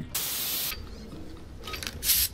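A spray paint tag sprayed in a first-person shooter match, heard as a loud hissing burst lasting about half a second, followed by two shorter, fainter sprays near the end.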